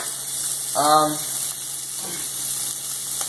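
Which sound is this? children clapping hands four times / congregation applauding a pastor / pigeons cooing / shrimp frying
shrimp frying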